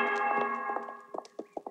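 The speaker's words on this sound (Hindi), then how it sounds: "वो तो चर्च में घंटी चढ़ा रहा है" A church bell rings softly in a few spaced, metallic strikes, with faint ticking knocks as it is hoisted into place, fairly quiet and without voices.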